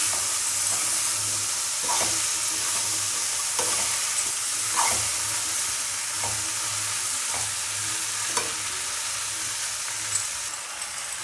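Cut okra frying in a pan with steady sizzle and hiss, broken by periodic scraping clicks of stirring roughly every second, close and continuous with no talk.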